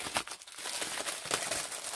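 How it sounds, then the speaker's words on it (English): Crinkly plastic packaging on a Temu craft item rustles and crumples as it is opened close by, in a continuous stream of soft crackles with no talking. "there's a lot of rustling going on"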